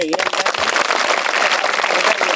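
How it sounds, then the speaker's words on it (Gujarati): Loud, dense applause from a village gathering honouring someone's birthday celebration, steady and sustained throughout with no pause. "જોરદાર તાળીઓથી"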